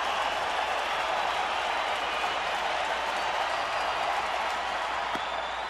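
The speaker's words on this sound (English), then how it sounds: "And now the crowd's starting to make some noise." A baseball stadium crowd during a Rockies at Diamondbacks game with the bases full, a continuous roar of cheering and scattered clapping that stays at a steady level throughout, broad and distant.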